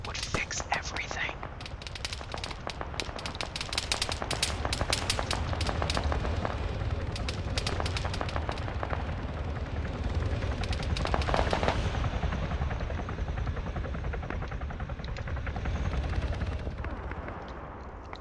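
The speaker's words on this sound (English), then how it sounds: "Don't do it, you're firing at a friendly." Gunfire and explosions from the Arma 3 military shooter, dense bursts of rapid fire and heavy rumble going on without pause under radio-style voices and whispered chatter.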